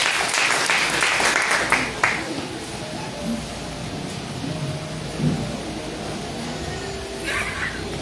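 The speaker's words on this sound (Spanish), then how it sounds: "Denle un aplauso al Señor." A church congregation applauds the Lord during a Spanish-language worship service, a dense burst of clapping over the first two seconds that quickly thins into a low murmur of room noise.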